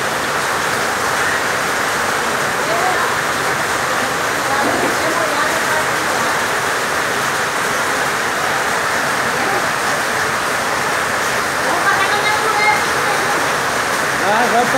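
Steady, heavy rain pours down as a dense, continuous wash of noise, close and loud throughout, with faint voices occasionally mixed in.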